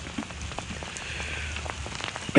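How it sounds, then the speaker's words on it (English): Spring rain patters steadily on a garden among hyacinths and poppies, dense droplets tapping surfaces up close with scattered sharper drips, a continuous wash of sound with no voices. "I expect I better come in out of the rain before I get too wet"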